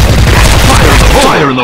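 Booming blast from a grenade in a first-person shooter game, set amid a steady wash of gunfire and battle noise, with a low rumble trailing off near the end.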